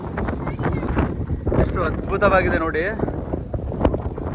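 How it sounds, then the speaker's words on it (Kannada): Strong wind buffets the microphone on a rocky hilltop beside a temple, a steady rough rumble running under close talking throughout. "ಸಿಕ್ಕಾಪಟ್ಟೆ ಗಾಳಿ ಇದೆ"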